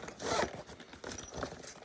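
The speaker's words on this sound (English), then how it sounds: "So you got a zipper on there that really seals her up." Zipper on a LiPo battery safe bag, pulled closed in two close, raspy strokes, loud and near, with no talk over it.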